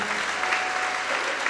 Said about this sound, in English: Can we give a clap to the Lord again for that word?